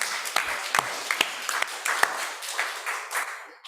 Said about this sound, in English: maybe we need a loud round of applause